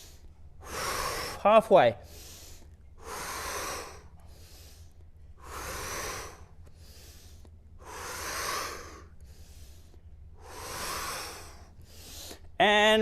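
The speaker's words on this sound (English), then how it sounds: "Exhale down. Inhale up. And exhale down. And do the exercise to your breath." Slow, rhythmic breathing during a breath-work and mobility exercise: long inhales and exhales alternate in an even cycle of about two and a half seconds, close and clear, with a brief spoken word and a couple of sharp sounds.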